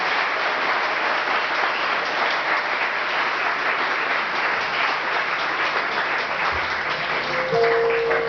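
A church congregation applauds steadily and loudly for a long stretch, a dense, even roar of many hands filling the room, with faint voices mixed in.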